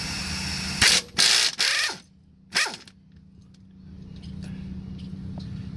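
Several loud, close ratchet bursts sound as 13 millimeter bolts are loosened on a car's rear axle, followed by a low steady hum with faint scattered clicks.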